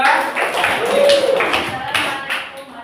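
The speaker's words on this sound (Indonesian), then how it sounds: "Tepuk tangan sekali lagi untuk kelompok 2." Scattered hand clapping from a small group in a classroom, fairly steady for a few seconds, with some voices murmuring underneath.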